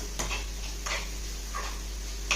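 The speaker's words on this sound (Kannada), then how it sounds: "ಸ್ವಲ್ಪ ಚೆನ್ನಾಗಿ ಫ್ರೈ ಮಾಡ್ಕೊಳ್ಳೋಣ" Momo filling with cabbage frying in a pan: a soft constant sizzle and hiss with a few light utensil scrapes and clicks against the pan, fairly quiet and close.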